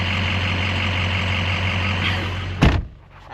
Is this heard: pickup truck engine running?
yes